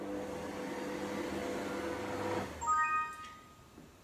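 A kitchen robot food processor mixing bread dough with a whole egg at speed 3 on a 20-second program. It gives a steady, low motor hum that stops, and a short run of electronic beeps follows.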